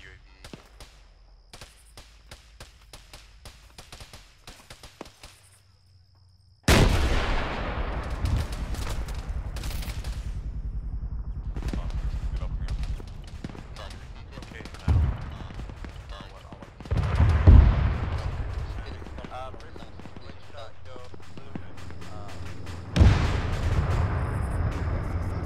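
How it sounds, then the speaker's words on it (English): Leopard tank cannon firing in ARMA 3, a sudden loud booming blast that rolls into sustained rumble, followed by further heavy cannon shots and gunfire over several seconds, with excited voices talking throughout. "Wow, dude, that cannon is so fucking loud."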